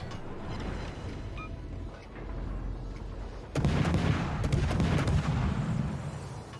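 Naval gun salvos from warships in World of Warships, a low rumbling boom of heavy fire that swells suddenly midway into a dense, loud barrage of overlapping shots and blasts.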